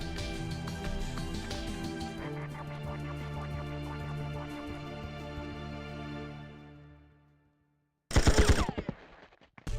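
Game gunfire in the James Bond title 007 Tomorrow Never Dies: a dense, loud sustained burst under game music that fades out, then after a short silence a sharp, loud cluster of shots.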